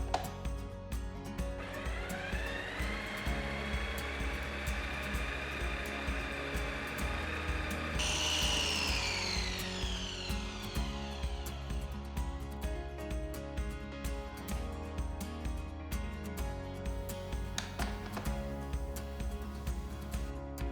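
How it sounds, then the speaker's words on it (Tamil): A food processor whirs at high speed grinding soaked rice for orange phirni, a steady close motor drone with a rising pitch shift midway and rhythmic pulsing throughout, no talk. "இதை நான் ஃபுட் ப்ராசஸரில் போட்டு ஹை ஸ்பீடில் அரைக்க போகிறேன்."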